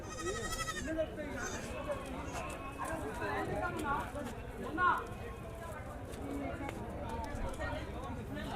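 Goats and kids bleat at a weekly livestock market, with a burst of high, wavering cries at the start, under continuous talking from people and other farmyard noise.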